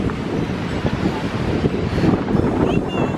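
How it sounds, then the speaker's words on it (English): Strong wind buffets the microphone at a beach boardwalk, a constant loud rumbling roar throughout with gusty swells and no voices. "It is very windy here."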